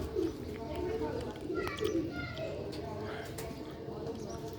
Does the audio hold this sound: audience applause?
no